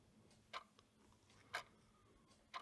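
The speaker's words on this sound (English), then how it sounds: "Focus on the ticks between the tocks." Three crisp clock ticks land at a steady one-second rhythm, close and clear over a faint low background hum.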